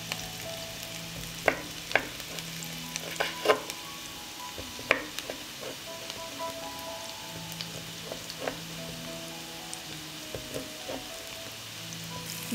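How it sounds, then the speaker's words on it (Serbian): Garlic and onion frying in hot pork lard make a steady, soft sizzle with scattered crackles and a few sharper pops, close by with no talking. "Dok se luk prži, iseckat ću 200 g slanine."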